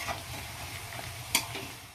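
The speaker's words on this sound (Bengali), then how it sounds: "এদিকে দেখো আমি পেঁয়াজটাকে সুন্দর করে আগে ভেজে নিচ্ছি" Onions fry in oil in a pan for a chicken dish: a faint, even sizzle with a few soft stirring clinks and scrapes, no voices.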